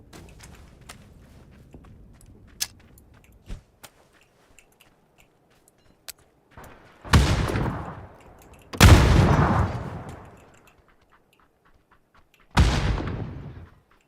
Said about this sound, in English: I'm gonna randomly chuck a nade over there